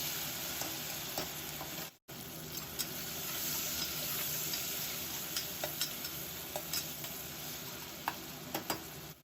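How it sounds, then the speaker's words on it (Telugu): Tomato pieces fry in a hot pan with a steady, dense sizzle, broken by a brief drop near the start, with occasional light stirring clicks, close and continuous, no voices. "ఈ టమాటా ముక్కల్ని కూడా వేసేసుకుందాము. వేసుకుని 1 నిమిషం ఇలా ఫ్రై చేసుకొని"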